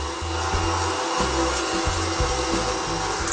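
A mincer grinds venison, giving a loud, close, continuous motor whir with a rhythmic, chunking low drone that stutters briefly as the meat feeds through.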